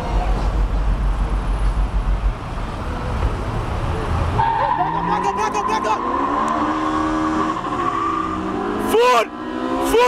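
Car engine at a street meet revving hard alongside a Type R, with loud rising and falling engine tones, tire noise and crowd shouting throughout, ending in a sharp burst.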